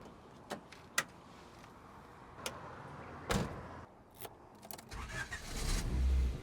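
A Honda EF Civic fitted with a B17 engine is started: a few scattered thumps and clicks come first, then the engine cranks and catches into a rising, rumbling idle that builds toward the end, fairly quiet overall.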